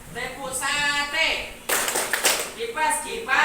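Children in a classroom playing the 'tepuk sate' clapping game, a few short bursts of rhythmic claps between chanted voices, close and lively.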